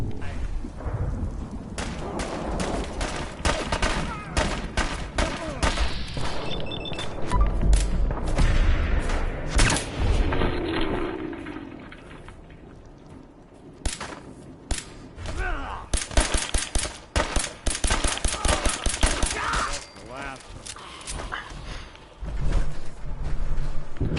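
Gunfire from the Fallout 4 video game rattles in dense volleys of sharp shots, with bursts of rapid fire and heavy booms, loud and near, broken by brief lulls.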